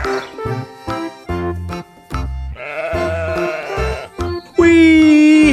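A toy sheep, a Garut sheep figure, lets out loud electronic bleats in a bouncy, repeating pattern of several short bursts, closing with a long wavering bleat, with no talk over it.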